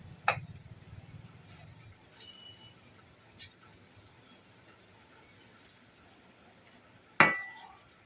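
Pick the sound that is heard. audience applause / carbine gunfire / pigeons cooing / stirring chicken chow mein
stirring chicken chow mein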